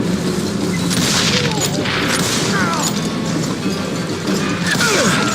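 Gunshots ring out in the Western shooter Call of Juarez Gunslinger, loud booming reports mixed with crashes and dense game action that run steadily through the whole stretch.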